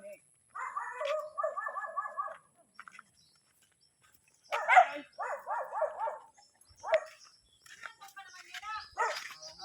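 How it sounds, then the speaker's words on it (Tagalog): A dog barks in a forest in a few separate bursts of quick, sharp barks at moderate distance, with pauses between them and people talking nearby. "And guys, may aso."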